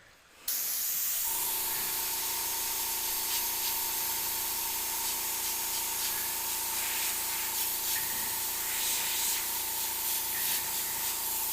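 Airbrush spraying paint onto skull artwork, starting after a brief pause and then a continuous close, steady hiss of air and paint with a faint underlying compressor hum.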